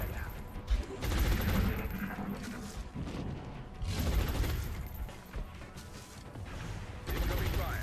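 Gunfire in the strategy game XCOM: Long War, loud volleys and bursts of shots that come in waves, separated by brief lulls, with heavy impacts and mechanical clatter mixed in.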